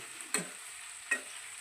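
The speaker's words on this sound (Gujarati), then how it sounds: "ભાજીનું તેલ મુકાઈ ગયું અહીંયા ભાઈ તો ભાજીનો વઘાર કરે છે" Two short, sharp sizzles burst out as leafy greens hit hot oil for tempering, each fading quickly against a faint background hiss.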